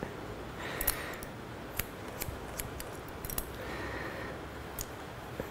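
Scissors snip through a section of hair during a uniform layer cut, giving a series of soft, close, crisp clicks at an irregular pace over quiet background hiss.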